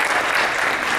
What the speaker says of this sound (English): but you should applaud them anyway